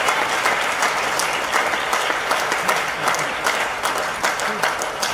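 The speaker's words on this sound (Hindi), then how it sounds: "समझ में आया तो ताली बजाओ" An audience at a talk bursts into applause, a dense, sustained clapping of many hands at moderate distance with a faint crowd murmur under it.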